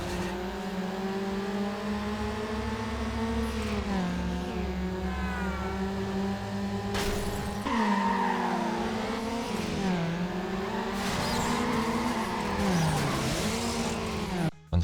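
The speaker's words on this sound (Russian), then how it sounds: "меня смущает дрифт на переднеприводном Honda Civic" A front-wheel-drive Honda Civic slides through a drift in NFS Underground, its engine droning steadily as the pitch rises and falls while the tires squeal and skid in long, loud sweeps, with occasional talk under the noise.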